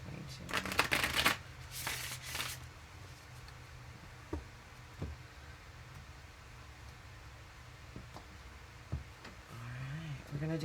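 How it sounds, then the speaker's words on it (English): Tarot cards being shuffled up close, a dense papery riffle and flutter in a few quick bursts near the start, followed by quieter handling and occasional soft card taps over a low background hum. "One more shuffle."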